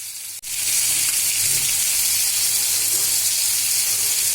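Steady, loud sizzling of rohu fish frying in a pan, a continuous hiss that starts abruptly and carries on without talk.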